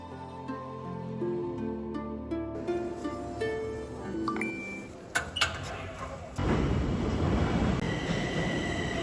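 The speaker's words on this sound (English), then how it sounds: "I took the metro from Preșezii to Piața Romanu with a quick change at Piața Unirii." Bucharest metro train on a ride with a change at Piața Unirii: tonal whines and clatter build, then a loud steady rumble of the moving car takes over in the second half, with brief door or announcement tones.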